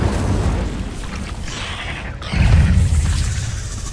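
A fire spell bursts in Hogwarts Legacy, a whooshing roar that swells into a heavier low-end blast partway through, loud and close with no talk over it.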